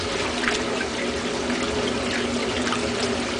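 A 1958 Dominion automatic washing machine starting its wash cycle, water sloshing and trickling in a steady, fairly loud, continuous wash with no voices.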